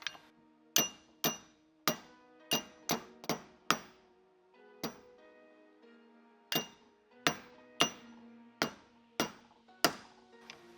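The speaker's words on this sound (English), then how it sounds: "if you're going to use a hammer, definitely go with a plastic hammer" A plastic hammer taps a dirt bike shock absorber's end cap into place, striking about fifteen crisp, close blows in an irregular rhythm with short ringing decays between them.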